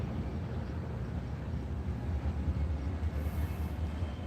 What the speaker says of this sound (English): train is slowly being built, so he's moving in an eastbound direction here.